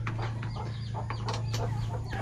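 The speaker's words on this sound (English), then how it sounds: "I'm testing out what I used to do with these chickens." Chickens on a small Aussie-run farm in the Philippines cluck and chatter in short bursts over a steady low hum, the calls close by and fairly continuous.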